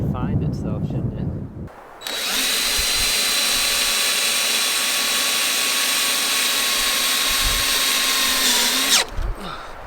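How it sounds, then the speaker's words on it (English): A satellite internet dish's motor whirs steadily for about seven seconds as it automatically orients itself, a loud close mechanical hum that starts and stops abruptly, with talking just before and after. "the dish orients itself automatically"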